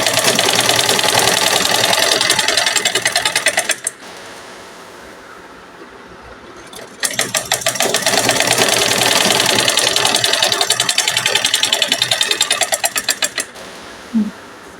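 A domestic sewing machine stitches fabric to form an elastic casing on a toddler's garment, giving a loud, close, steady rapid whirring. It runs for several seconds, pauses briefly, then starts again for a longer stretch.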